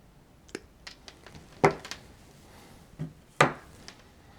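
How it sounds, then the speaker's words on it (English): Snips cutting lead wire, a few sharp, close clicks, two of them distinctly louder snaps, spaced irregularly over quiet background. "Just going to use my snips to cut this off."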